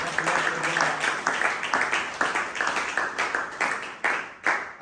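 Church congregation applauding and cheering in praise during a French-language service, a steady dense wash of clapping with rhythmic swells throughout.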